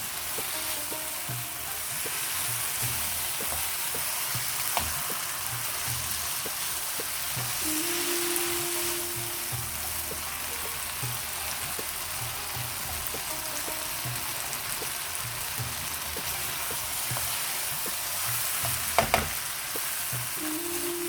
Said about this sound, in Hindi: अब इसमें मैं ये भिंडी डाल दूंगी जो मैंने फ्राई करके रखी थी। इसको भी इसके साथ पका लूंगी मैं। इस तरह से मिक्स कर दूंगी इसके साथ।